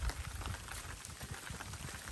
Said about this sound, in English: as you see, it's raining